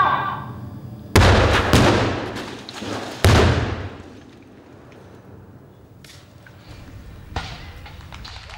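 Pyrotechnic explosions on a film set: two loud, abrupt booming blasts a couple of seconds apart, each trailing into rumbling debris, then quieter scattered cracks and noise.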